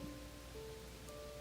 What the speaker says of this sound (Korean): 비바람이 점점 더 거칠게 몰아쳤다.